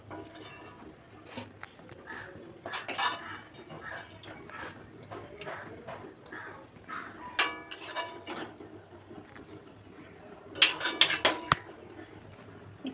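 Chicken pieces set into a biryani pot, heard as scattered light clinks and scrapes of utensils against metal cookware at close range, with a louder cluster of clatter near the end.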